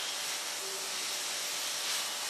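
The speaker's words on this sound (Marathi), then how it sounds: "अगदी मस्त वाफ आलेली आहे" Steam hisses steadily and softly from a covered pan of radish bhaji, a constant airy rush with no talking.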